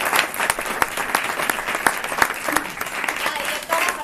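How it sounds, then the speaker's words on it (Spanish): A theatre audience gives sustained applause after a stage play, with dense overlapping claps at a steady level throughout. "Un aplauso."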